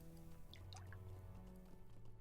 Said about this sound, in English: throwing rocks in the water